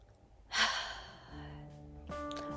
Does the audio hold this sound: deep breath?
yes